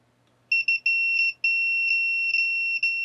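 A bench multimeter in continuity test mode gives a series of sharp, loud electronic beeps, several quick chirps followed by longer tones at irregular intervals, alone with no talking.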